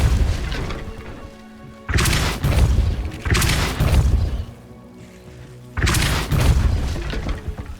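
Depulso force spell cast in the video game Hogwarts Legacy, heavy booming blasts with crashing impacts arriving in several loud bursts separated by quieter game ambience.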